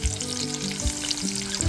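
Fresh village fish frying on a tava with a curry leaf tempering, a steady close crackling sizzle with a few louder pops and spatters.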